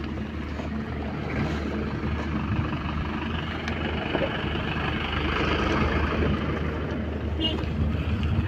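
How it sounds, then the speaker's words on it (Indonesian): Road traffic on a difficult mountain route in Aceh, with a steady broadband engine and tyre rumble as a car passes close by, continuous and fairly loud throughout, with a few voices over it. "Awas mobil."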